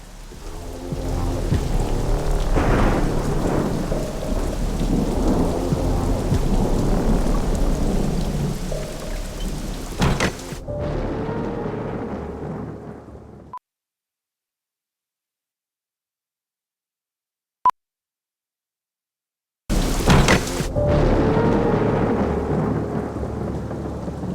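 Heavy rain pours steadily with rumbles of thunder, then the sound cuts to near silence before the downpour returns loudly.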